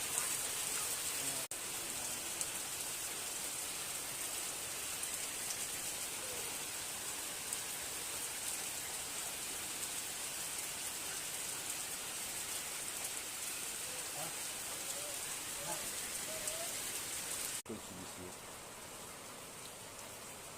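A heavy evening downpour of rain pours steadily for twenty seconds, a dense, even hiss of drops on surfaces nearby that eases slightly near the end.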